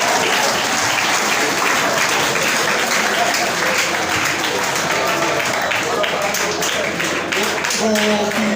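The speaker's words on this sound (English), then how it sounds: "Let's have a round of applause for the police." Audience applause for the police at a school founder's day and gala award night, loud and sustained for the whole stretch, with a steady dense wash of clapping and some voices mixed in near the end.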